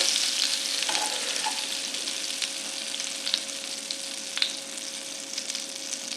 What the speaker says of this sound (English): when it's melted like that and sizzling, you can actually turn the heat off